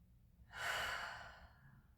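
One deep breath is drawn in and slowly let out during a therapy ball glute stretch. It is soft and close, surrounded by quiet.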